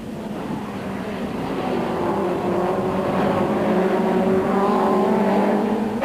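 Touring cars, a Toyota Camry and a BMW, race through a sweeping bend on a South African circuit at East London in 1994, their engines a steady loud drone that builds and holds at close range throughout.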